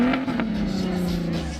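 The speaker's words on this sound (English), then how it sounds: "This engine is an R32 from a Golf 5." A steady, low engine rumble from a Volkswagen Golf 5 R32 engine fitted in a microbus holds throughout, close and fairly loud, with a faint rise in pitch partway through.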